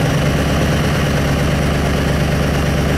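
Ford crew cab with a 6.0 Powerstroke diesel engine held in gear at full throttle, a steady, loud low rumble with constant vibration that barely rises in pitch, close by and with no talk.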